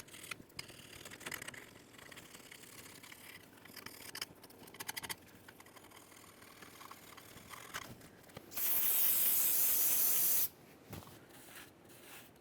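Parts cleaner sprays onto a 1998-2011 Ford Ranger differential in one loud, steady two-second hiss near the end, following quiet scraping and handling noises.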